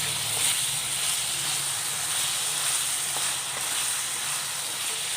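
Chunks of elephant foot yam frying in hot oil give off a loud, close, steady sizzle and hiss, with faint crackles and pops scattered through it.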